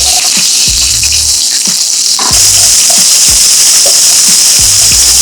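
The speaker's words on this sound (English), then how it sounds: "Adding first our chopped up chilies, garlic, and small red onion." Chopped chilies, garlic and small red onion fry in hot oil for a vegetarian eggplant sambal balado, giving a steady close sizzle with crackling pops and a sudden louder burst of spattering partway through.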